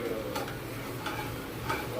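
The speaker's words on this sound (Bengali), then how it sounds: "গরম মশলা একটু ফাটবে, তোমরা একটু দেখে দেখে করবে" Garam masala spices crackle in hot oil as a faint sizzle broken by scattered small pops, close by and without talk.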